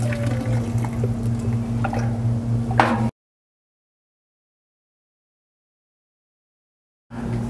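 Thick malt syrup scraped out of a canister while brewing beer at home, giving soft sticky squishes over a steady low hum, then a stretch of silence before the hum returns.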